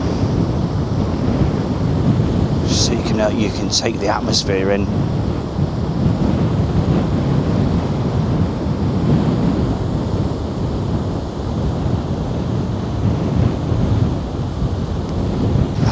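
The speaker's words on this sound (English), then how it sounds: "Just listen to the waves." Continuous rushing surf and choppy waves of a rough sea breaking nearby along the Blackpool seafront, a dense roar under brief spoken remarks early on.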